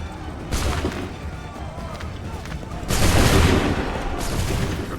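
Musket volleys crack out in Assassin's Creed 3 as two loud, broad bursts of gunfire erupt amid battlefield noise. Shouted commands can be heard beneath the shots.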